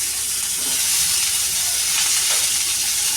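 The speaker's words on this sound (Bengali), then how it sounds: "পেঁপেগুলো এবার ভেজে নেবে।" Papaya frying in a wok gives a steady, loud hiss and sizzle up close, with a faint stir near the end.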